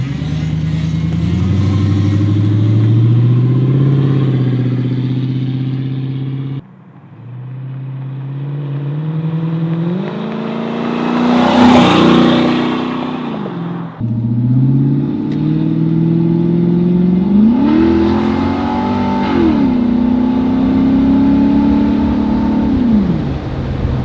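A Lexus engine and exhaust sound loud and close while driving, rising and falling through several revving accelerations and gear changes, with brief dips between pulls and no talking.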